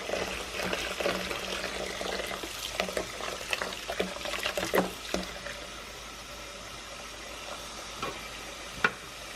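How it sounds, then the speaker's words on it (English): Tap water runs into a pitcher of sweet tea, which is then stirred, giving a steady rushing flow with scattered clinks and splashes, close by and without talk. "And you're going to fill it all the way up with the tap water."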